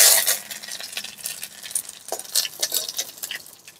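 Curry leaves drop into hot oil already frying mustard seeds and dried red chilli, bursting into a loud crackling sizzle at first, then settling into uneven spitting and popping pulses.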